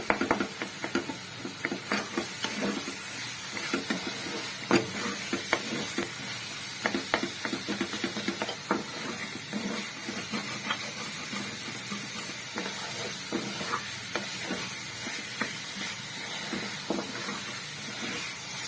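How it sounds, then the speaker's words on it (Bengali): Tomato is mashed and stirred into chicken karahi in a hot pan, a steady sizzle and hiss running throughout beneath rapid, irregular scraping strokes of the spoon. "টমেটোটাকে একদম ম্যাশ করে নিতে হবে, পুরো মিশিয়ে নিতে হবে ভালো করে।"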